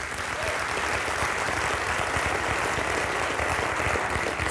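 Enthusiastic audience applause at a live bunq app update presentation, dense and steady clapping filling the room loudly throughout without a break.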